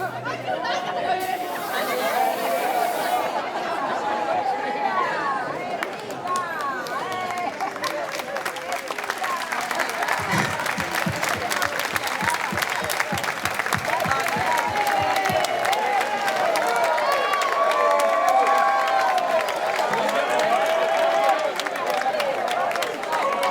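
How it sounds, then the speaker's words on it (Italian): Concert crowd in Piazza Manzoni, Jesolo, clapping and cheering in a long, steady wash of applause that swells and persists, with chatter mixed through the crowd noise. "Voglio sentire grande applauso!"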